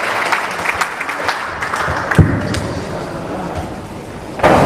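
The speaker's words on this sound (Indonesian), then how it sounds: "Tepuk tangan untuk Pak Arifin Purba." Moderate audience applause at an Islamic religious gathering, a steady patter of clapping from a crowd with some louder individual claps near the end.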